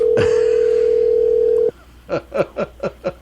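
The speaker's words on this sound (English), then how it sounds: "Come on, Sacco, answer the phone." A telephone dial tone hums steadily for over a second, then cuts off and is followed by a quick series of six evenly spaced dialing tones on a phone call.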